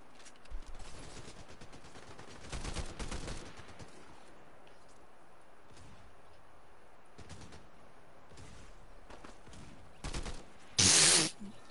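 Rifle gunfire in a video game, including a golden rifle: a handful of sharp shots spaced irregularly at moderate distance, ending with a louder, closer burst.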